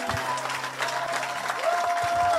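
A church congregation applauding, a dense steady crowd clap that fills the room, with a sustained instrument or voice tone and faint voices in the mix.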